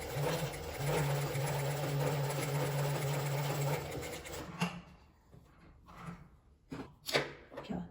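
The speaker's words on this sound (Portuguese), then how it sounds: "Eu aumento meu ponto da máquina lá no 5, puxo um pouquinho de linha e venho costurando aqui na beiradinha" A sewing machine runs along a fabric edge at stitch length 5 while making a small card purse, a steady close mechanical whirr for about four seconds, then stops into quiet handling noises and light taps.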